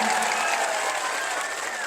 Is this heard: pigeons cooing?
no